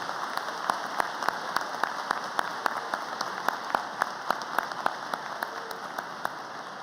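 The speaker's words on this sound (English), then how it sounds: "Please join me in a round of applause for all of our award winners." A crowd applauds steadily at a high school graduation ceremony, a dense wash of many hands clapping at an even level throughout, with a few sharper claps standing out.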